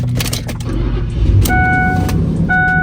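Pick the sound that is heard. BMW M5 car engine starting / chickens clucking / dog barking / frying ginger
BMW M5 car engine starting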